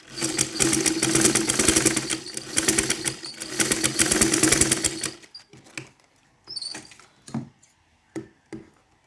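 A sewing machine stitches a crinoline ruffle sleeve with a fast, loud, steady mechanical rattle for about five seconds, then stops, followed by a few scattered clicks and fabric handling noises.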